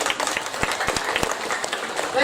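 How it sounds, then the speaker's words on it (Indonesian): A crowd claps at a live Balinese drama gong stage performance, brisk uneven clapping with a few sharp louder hand slaps standing out, mixed with background chatter and voices. "Tepuk tangan dulu,"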